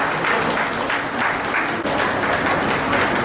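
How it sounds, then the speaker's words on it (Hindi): Sustained applause from an audience at a museum inauguration ceremony, steady dense clapping filling the whole moment with no speech over it. "जोरदार ताली से स्वागत करते हैं।"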